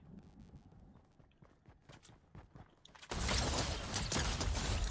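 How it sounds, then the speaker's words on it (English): Enemy footsteps run in a video game as a quick series of light, rhythmic thuds. A sudden loud burst of sustained noise then swamps them. "I hear running, so I hear footsteps"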